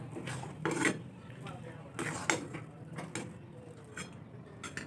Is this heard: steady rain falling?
no